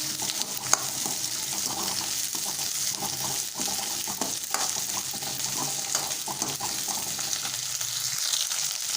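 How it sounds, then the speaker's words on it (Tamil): Okra frying in oil in a pan for a Kathirikai kara kulambu, a steady close sizzle broken by occasional stirring scrapes, with no talk over it. "வெண்டைக்காய் நல்லா எண்ணெயிலே ஃப்ரை ஆகணும்."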